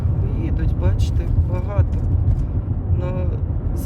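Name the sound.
cars passing on the road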